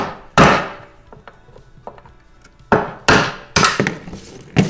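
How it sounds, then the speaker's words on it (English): Sharp plastic hammer taps knocking out a pin strike repeatedly, a single hit followed by a cluster of four or five close knocks, loud and near with quiet gaps between. "I have a plastic hammer so I'm not damaging anything."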